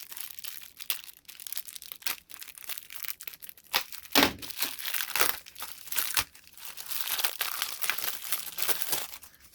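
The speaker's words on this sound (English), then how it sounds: "Let's cut into this now." Transparent phone cases for an iPhone 6s Plus and 8 Plus being cut out of crinkly plastic packaging: dense, close crackling and crumpling with sharp tearing snaps, continuous throughout and no talking.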